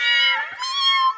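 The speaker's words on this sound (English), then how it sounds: "The cats yowled and scattered in all directions" Cats yowl in a folktale scene of cats drenched with water in a muddy yard, a loud, close, drawn-out wavering caterwaul lasting about a second, with no talk.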